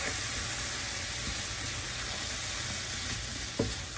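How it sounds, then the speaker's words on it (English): Sweet and spicy succotash with maple syrup being stirred in a frying pan over low heat, a continuous soft sizzle with light scraping and one small knock, near and without voices. "And give it a good stir."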